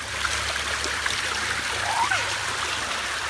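Small waterfall in a backyard, steady close splashing and trickling water that forms a constant broadband rush with light splatter, loud and continuous throughout.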